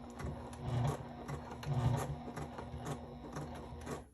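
A sewing machine stitches steadily through layered cork, foam and fabric, a close, continuous mechanical whir with a rhythmic needle chatter that swells and eases slightly as the seam runs along.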